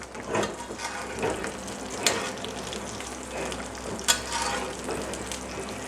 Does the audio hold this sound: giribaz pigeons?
no